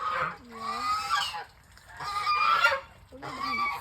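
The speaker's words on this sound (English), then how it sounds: "Those are the geese." Farm geese honking loudly nearby in three overlapping bursts, harsh nasal calls separated by brief pauses.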